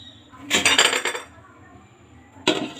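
A metal lid clanks onto a pot of simmering chana dal on the stove: one rattling clatter lasting about half a second, a quiet pause, then a second sharp clink near the end.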